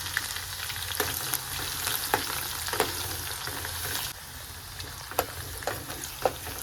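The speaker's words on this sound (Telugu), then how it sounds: "ఇట్లా కొంచెం ఫ్రై చేసుకోవాలి ఎల్లిపాయలు." Garlic frying in hot oil with dried red chillies for cauliflower pickle, a continuous close sizzle broken by occasional stirring scrapes and taps, steady and moderately loud with no talk.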